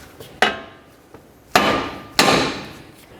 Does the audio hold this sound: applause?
no